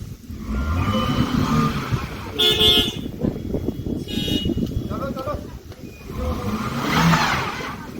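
A truck jammed in heavy snow revs its engine amid other stuck cars, with a short horn toot and surging motor noise close by while people talk over it.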